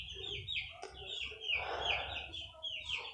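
Chicken clucking in the Minecraft video game, a string of short clucks and squawks with a brief scratchy rustle partway through.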